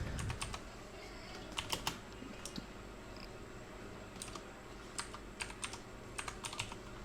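Keys tapped on a computer keyboard while entering text in a Microsoft Word document, irregular clusters of quick clicks at close range with pauses between bursts, no voice.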